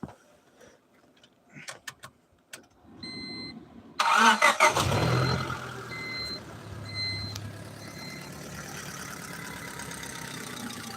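A car engine cranks and catches after a few quiet knocks, then settles into a smooth, even idle close by, with repeated electronic beeps sounding over the running engine.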